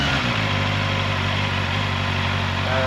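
A Honda CBR650R motorcycle with E-Clutch runs in first gear, a close, steady engine hum with a strong low throb that rises slightly in pitch near the end.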